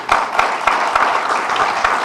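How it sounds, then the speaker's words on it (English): Loud, close applause from an audience at a talk on free hospital care in Karachi: a thick, continuous patter of many hands with a few sharper individual claps standing out, and no speech. "Hold your applause. Hold your applause."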